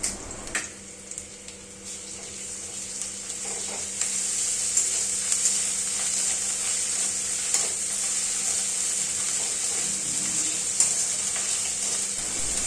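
Finely chopped onions fry in hot oil for a soybean do-pyaza, giving a continuous close hiss of sizzling that thickens midway, with a few faint spoon scrapes and no talking.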